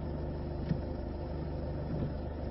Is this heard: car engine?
yes